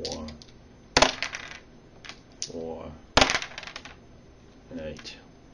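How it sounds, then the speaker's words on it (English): Two dice clatter and tumble across a hard surface during a tabletop wargame, with several sharp rattling bursts and small bounces spread over a few seconds, close and crisp. "And we roll two dice."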